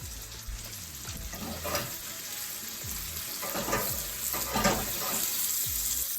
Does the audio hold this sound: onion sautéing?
yes